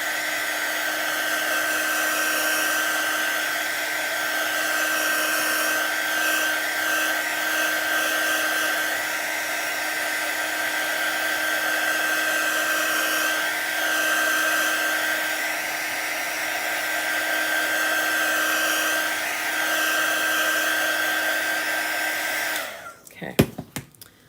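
A hair dryer runs steadily up close, blowing to dry chalk paste on a Christmas cottage craft, a continuous whirring roar that cuts off abruptly near the end with a few handling clicks.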